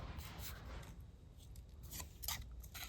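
Scissors trim paper for a Halloween paperclip charm, giving a few quiet, close snips and rustles with short gaps between cuts.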